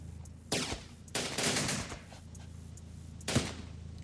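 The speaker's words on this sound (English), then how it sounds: "I already am seeing, just pretty decent gunfire sounds, I have to say." Machine-gun fire rattles in bursts from the war video game Syrian Warfare during a police station defense: three separate loud volleys, with a longer sustained burst in the middle, over a low background rumble.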